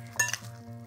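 Kale and ricotta galette filling gets one last stir in a pan, two quick scraping strokes over a faint background hum.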